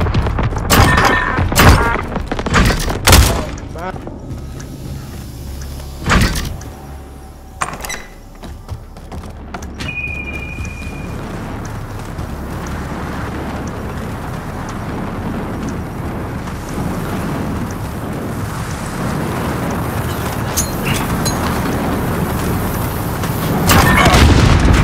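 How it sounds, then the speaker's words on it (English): A white phosphorus airstrike in the Modern Warfare video game lands as several heavy booming explosions, loud and close, followed by a long, continuous roar of rumbling fire and debris. "Dropping white phosphorus."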